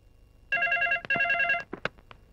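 A telephone rings in a home kitchen setting with a repeated electronic bell tone, two long trilling bursts followed by shorter chirps, clear and close with no talking over it.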